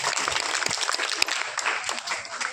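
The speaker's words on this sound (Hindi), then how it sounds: "एक बार जोरदार तालियां छोटे छोटे बच्चों के लिए।" An audience claps loudly for small children at an Indian event, a dense steady round of applause with scattered sharper claps throughout.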